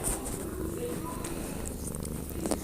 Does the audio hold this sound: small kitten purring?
yes